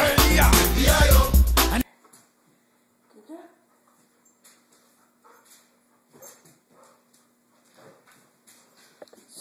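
A puppy standing on a table after a party gives faint, high whimpers and snuffles between soft pattering steps, all quiet and close, following a brief burst of loud music and voices at the start.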